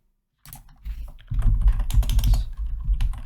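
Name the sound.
typing code on a computer keyboard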